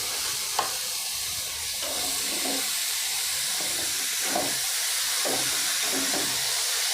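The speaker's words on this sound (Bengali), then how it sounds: "এবারে আমি এতে দিচ্ছি বাঁধাকপি।" Cabbage tossed into a hot pan sizzles and steams in a steady broad hiss, with a few soft stirring scrapes and rustles scattered through, fairly close and with no voices.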